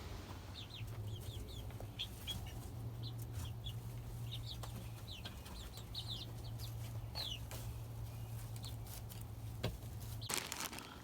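Backyard chickens clucking around a coop, repeated short clucks and soft calls scattered over a steady low hum, with a brief rustling clatter near the end.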